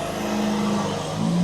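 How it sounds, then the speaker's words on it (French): A tractor engine runs nearby, a steady low mechanical drone with a slight rise in pitch and loudness toward the end, heard alone without talk. "Un tracteur."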